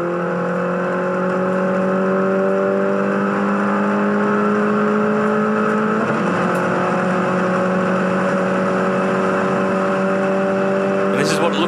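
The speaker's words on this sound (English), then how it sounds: "turbocharged 4-cylinder engine." A Mini Challenge race car's turbocharged four-cylinder engine drones steadily at high revs out on a race track, a loud, continuous onboard whine with a brief shift in pitch midway and a short click near the end.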